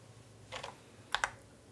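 A computer keyboard tapped softly for a command, a few faint keystrokes in two small clusters over quiet room noise.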